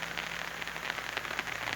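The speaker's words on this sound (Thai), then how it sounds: "ตอนนี้ก็อยากตกอยู่ครับนี่ฝนนะครับเนี่ย" Rain falls over a garden in Thailand where grass was being cut: a steady, even patter of drops on surfaces at moderate loudness, alone without voices.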